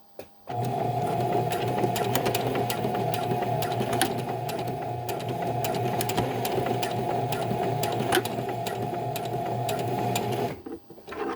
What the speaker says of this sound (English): now I'm just going to go back and forth sewing it